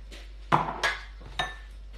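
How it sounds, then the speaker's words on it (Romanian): Whole-wheat flour and butter stirred together in a bowl give three sharp clinks and scrapes of a utensil against the bowl, each followed by a short rustle, close by in a quiet room. "Și acum o să amestecăm totul cu untel."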